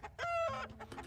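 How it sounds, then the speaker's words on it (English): A chicken in the video game Wizard of White Box gives a short, near cluck-like call, a single clear burst lasting about a second with no talking over it. "Chickens!"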